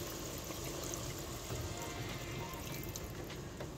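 Water pours steadily over chicken pieces in a cooking pot, a continuous close splashing trickle lasting throughout with no voices.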